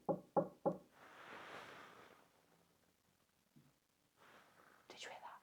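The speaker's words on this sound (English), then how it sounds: "Like knock on something." Three sharp knocks on a hard surface in a quiet room, close and evenly spaced at the start, followed by faint whispering, a soft thump and later a brief rustle.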